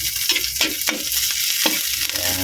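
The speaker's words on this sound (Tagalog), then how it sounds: "Ilagay na natin ng ating bawang. Gisahin na natin guys ito guys." Chopped garlic sautéing in hot palm oil in a pan, a loud close sizzle broken by a few quick stirring scrapes and spatters.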